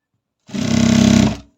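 A sewing machine stitches fabric in one steady motorised burst lasting about a second, with a rapid even needle rhythm, close and loud, starting and stopping abruptly.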